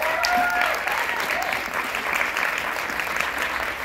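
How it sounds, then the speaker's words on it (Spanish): Sustained audience applause for graduates at a live event fills the room, a broad even roar of clapping that begins strongly and holds steady, with a few voices faintly mixed in. "un fuerte aplauso para los que se gradúan."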